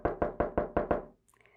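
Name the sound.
knocking on a door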